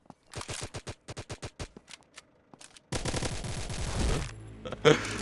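M4A1 rifle fire in a mobile shooter game: a string of sharp single shots in quick rhythm, then a loud sustained automatic burst, close and prominent.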